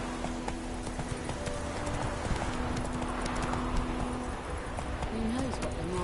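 Horse Roach galloping in The Witcher 3: Wild Hunt, rhythmic hoof clip-clops close by on the ground with a brief snort or whinny near the end, over faint ambient birdsong.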